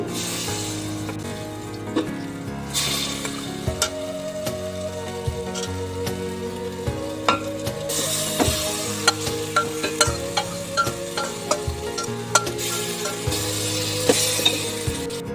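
Chicken and rice for biryani are stirred in a pot, a steady scraping and clinking of a spoon against metal with soft sizzling underneath, close and fairly loud, no voices.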